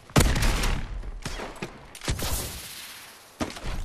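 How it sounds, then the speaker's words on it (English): Gunfire in a video game: several loud, sharp shots in an irregular burst, some echoing, with a final shot near the end. "I'm just taking pot shots at him."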